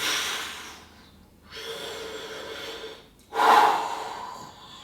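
Heavy breathing during a fat-burning, muscle-building workout, with two loud, drawn-out breathy exhales and a quieter breath between them, close and with no speech over it.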